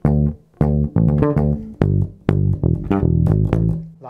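Disco bass line on electric bass, a full phrase of punchy, plucked notes with a chromatic run, played alone, loud and close.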